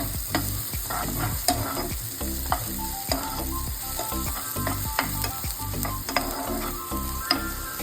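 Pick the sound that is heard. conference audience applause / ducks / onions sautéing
onions sautéing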